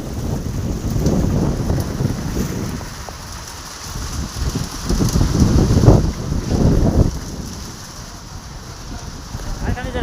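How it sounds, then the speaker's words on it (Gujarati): Strong gusting wind ahead of a sudden storm buffets the microphone, rising and falling in roaring surges and easing between blasts, with rain-like wash in the background. "આવો ભાઈ પવન નીકળેલો છે"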